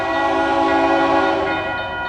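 A train passing at Indiana Dunes sounds a loud, sustained horn chord that holds steady for about two seconds, with rail rumble beneath and no voices.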